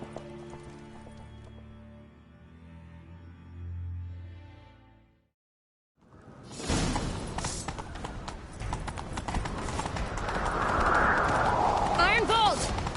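Horses ridden in a chase: soft rhythmic hoofbeats under background music, a short silence, then loud rapid galloping clatter building with whinnies and a dramatic swell.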